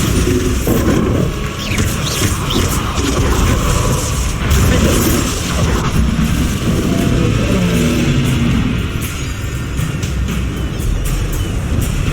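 Continuous heavy rumbling and booming from Bombarda explosion spells in the Hogwarts Legacy combat, dense and loud throughout, with layered impacts and rushing noise and no clear pauses.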